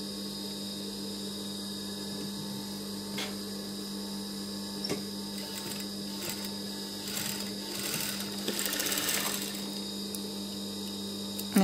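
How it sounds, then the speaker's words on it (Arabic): A sewing machine stitches a fabric hair band in a quiet room with a steady electrical hum, giving a soft, continuous mechanical whir with scattered small clicks that grows slightly busier toward the end. "غادي نخيطها"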